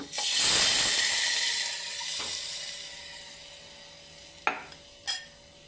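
Yogurt pours onto sautéed ginger and garlic in a hot pan, a loud hissing sizzle that slowly dies down, followed by two sharp utensil knocks.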